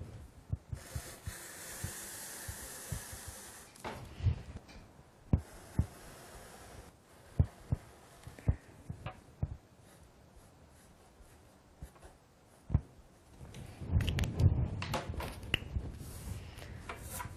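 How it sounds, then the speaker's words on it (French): A felt-tip marker traces over drawn lines on cushion fabric laid on sandpaper, making soft, close, scratchy strokes in short bursts with pauses between them. A denser run of scraping comes near the end. "je vais prendre un feutre et repasser sur les lignes que j'ai dessinées tout à l'heure"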